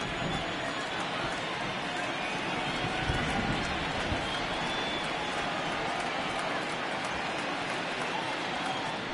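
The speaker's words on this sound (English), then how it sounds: "This has got to be the hardest rain we've seen all afternoon." Heavy rain pours down on an outdoor baseball game as a dense, steady hiss that fills the whole stretch. A commentator's voice sits under the downpour.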